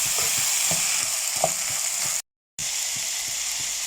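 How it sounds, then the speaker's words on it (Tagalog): Tomatoes sizzle and fry in a pan as they are stirred, with scrapes and clinks of the stirring utensil sounding over a steady close crackle that briefly cuts out partway through. "Haluin ulit."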